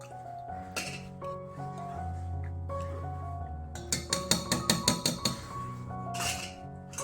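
Cooked snake gourd pieces mashed by hand with a masher in a bowl with yogurt, giving a run of about eight sharp, regular clinking knocks near the end over a soft background hum.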